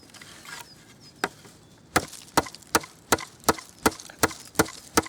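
A Mora Robust knife is batoned through wood, with about a dozen sharp, close strikes, sparse at first, then a steady rhythm of evenly spaced blows.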